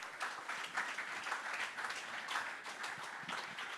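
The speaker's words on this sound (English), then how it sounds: "Please, can you give me a round of applause for these wonderful people?" An audience at the Adopting Bitcoin conference in Cape Town claps together, a dense, steady patter of many hands at moderate distance, sustained without break and fairly soft.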